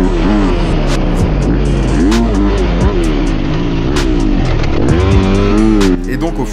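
Motorcycle lapping a newly opened local race circuit, its engine loud and close, revving up and down through gear changes in continuous rising and falling sweeps before cutting off near the end.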